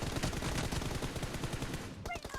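Rapid bursts of gunfire from a PUBG Mobile arena match fill the scene, loud and continuous with dense repeated shots, easing off near the end.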